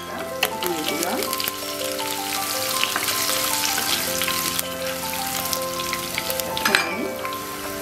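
Chopped garlic is added to hot oil with mustard for a Bengali drumstick curry and sizzles loudly and steadily up close. A voice speaks over the frying and music plays in the background.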